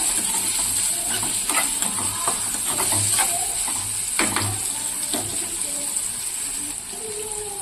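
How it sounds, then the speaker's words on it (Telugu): Green chillies frying in a pan, a continuous close sizzle broken by repeated scraping and clinking as a utensil stirs them. "ఇప్పుడు చూడండి, ఇలాగా కొంచెం వేగింది కదా, కొంచెం పచ్చివాసన పోయే వరకు వేయించుకోవాలి"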